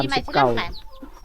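A chicken in a rural Thai setting clucks in a quick, close run of short, throaty calls that fade into quieter background.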